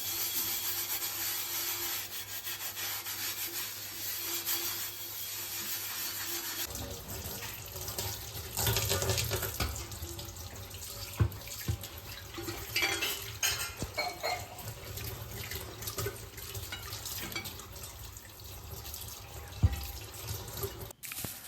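A cast iron dosa tawa is washed under a running kitchen tap, with a steady stream of water into the sink. Scrubbing and rubbing follow, along with occasional clanks of the metal pan, up close.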